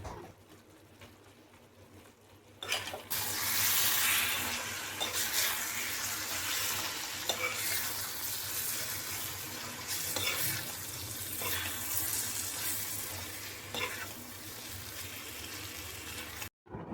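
Raw plantain pieces cooking in a covered pan on a gas stove make a steady frying hiss that swells when the lid comes off, with intermittent stirring scrapes throughout and no talking.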